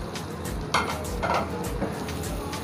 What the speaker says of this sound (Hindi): अब यहाँ पे हम इसको अच्छी तरह से मिक्स करेंगे और तकरीबन 5 से 6 मिनट के लिए इसको भून लेंगे